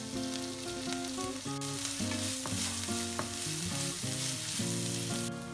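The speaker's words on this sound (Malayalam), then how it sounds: "ഇഞ്ചി വെളുത്തുള്ളി നന്നായി ഇതിൽ കിടന്ന് മൂക്കണം." Ginger and garlic fry in oil in a pan for a Kerala-style beef liver roast, giving a steady, close sizzle that runs throughout beneath background music.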